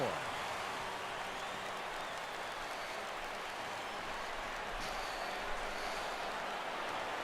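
A stadium crowd cheers and roars in the baseball video game MLB The Show 17, a dense, continuous wash of noise sustained throughout at moderate volume.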